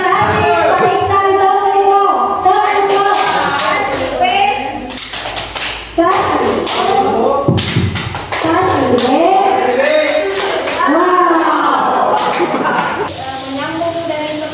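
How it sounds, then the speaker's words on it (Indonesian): An audience at a teachers' best-practice sharing session claps together, a loud, sustained patter of hands that mixes with cheering voices and children talking. "Tepuk tangan dulu untuk Pak Iksan ya."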